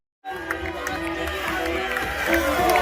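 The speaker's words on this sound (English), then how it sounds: "now's the time to cheer on your lumberjacks" A crowd cheering on competitors at a lumberjack tree-climbing race in Alaska, a loud sustained roar of shouts and whoops that starts abruptly and swells slightly, with voices and a public-address speaker mixed in.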